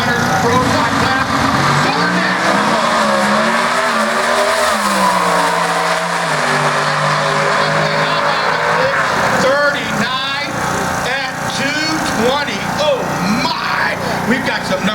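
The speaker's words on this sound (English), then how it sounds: "Matt making his first lap here in the U.S. Bounty Hunters Pro Stock class" A Mountain Motor Pro Stock drag race car makes a run at an IHRA event, its engine roaring loudly and shifting pitch as it accelerates, with an announcer talking over it.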